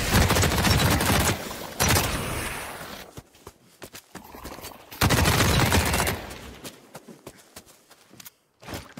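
Gunfire in The Cycle: Frontier, heavy sustained bursts of automatic fire in two long stretches, loud and close, separated by quieter moments with scattered single shots and footsteps.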